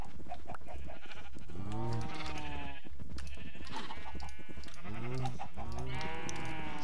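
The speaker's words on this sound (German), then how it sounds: "die Schafe müssen wir dann bald nicht mehr zähmen" Several sheep bleat in the video game Minecraft, calls with clear rising and falling wavering tones repeating across the stretch, at moderate level against a low steady background hum.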